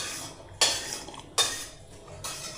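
Metal pots and utensils clinking in a home kitchen during cooking, three sharp clanks spaced about a second apart, moderately close and with no talking.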